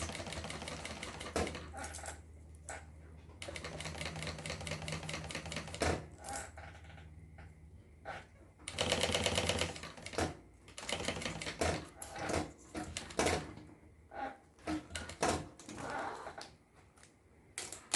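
Sewing machine stitching a zippered notebook cover, running in rapid mechanical bursts with short pauses between runs, close and fairly quiet, with no talking.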